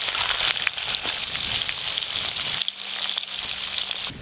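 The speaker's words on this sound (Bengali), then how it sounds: "এই দেখুন মাছগুলো ধীরে ধীরে কত সুন্দর ভাজা হচ্ছে" Amudi fish pakora frying in hot oil, a steady close crackling sizzle with bright spattering pops that continues without talk.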